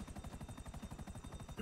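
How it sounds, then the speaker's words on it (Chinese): A helicopter in the video game Grand Theft Auto V gives a steady, rapid rotor chop that pulses evenly throughout, fairly close and alone. "后面直升机，直升机看谁可以轰"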